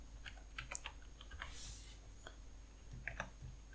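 Typing on a computer keyboard while modelling in Blender, a few quick bursts of close, faint key clicks with short pauses between them.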